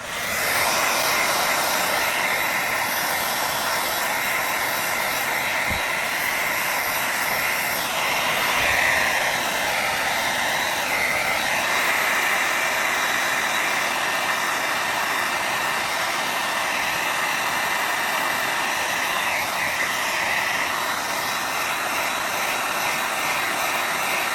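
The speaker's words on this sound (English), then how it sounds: "we'll go ahead and give that a little hair dryer treatment" A hair dryer blows continuously at close range, a loud steady whooshing roar with a faint shifting whine, no voices.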